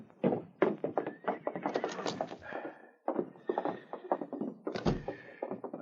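Horses whinny and hooves clop amid thumps and a door sound as outlaws leave their mounts behind a small roadhouse in a 1950 Yukon radio drama, busy close-up sound effects under brief dialogue.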